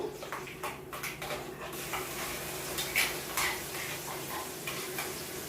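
Onion chili paste with curry leaves frying in a pan for bitter gourd curry, a steady close sizzle with uneven scraping and stirring strokes of a spoon against the pan, no voices.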